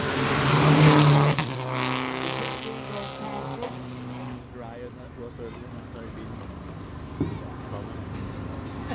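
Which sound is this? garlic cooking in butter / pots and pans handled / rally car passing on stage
rally car passing on stage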